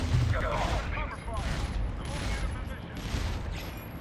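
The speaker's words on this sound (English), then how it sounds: "the burst rifle, a medium-range weapon" A burst rifle in the video game Fuse fires in repeated quick volleys at a steady rhythm. The shots sit at a moderate level under an ongoing game soundscape.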